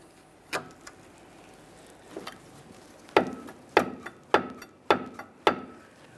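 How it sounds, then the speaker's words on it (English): Small pry bar levering a brake caliper piston back against the pad on a 2007-2013 Acura MDX rear brake, a series of sharp metallic knocks and clacks, sparse at first then quicker, close and fairly quiet. "To be able to do that easily, we'll use a small pry bar."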